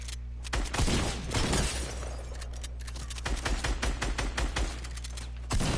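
AK rifle gunfire in the video game Zone Wars, rapid loud bursts of automatic shots cracking in quick succession over a low steady hum, with short pauses between strings of fire.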